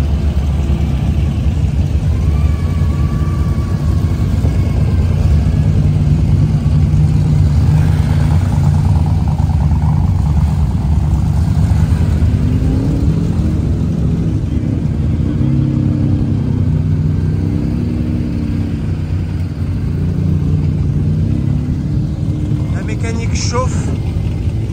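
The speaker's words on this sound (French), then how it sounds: "Les moteurs se mettent en route." Tour Auto rally cars at Dijon start up and rumble at idle in a dense, steady low drone, with occasional revs rising and falling beneath continuous close talking in French.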